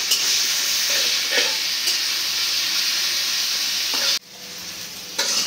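Onion and green chilli fry in soybean oil in a pan, with a constant sizzle broken by scraping stirs and a sudden dip before the frying swells back.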